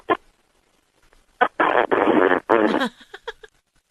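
A person farts into a phone held close to the body, producing several buzzy, sputtering bursts that are heard over the line. A long blast runs in the middle, with a few quick pops and short stutters tailing off after it.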